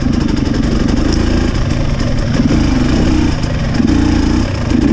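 Husqvarna TX300 two-stroke motorcycle engine with a Keihin PWK carburetor, lugging uphill in third gear, a loud, steady low rumble with a rough pulsing beat that swells slightly in short surges.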